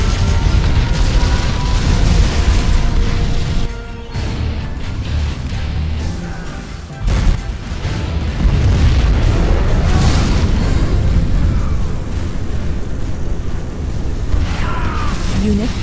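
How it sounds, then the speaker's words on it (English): Nuclear missile blast in Command & Conquer Generals, a deep rumbling boom rolling on for seconds with a second heavy surge, loud and sustained, with a voice speaking over it. "We have launched our nuclear missile."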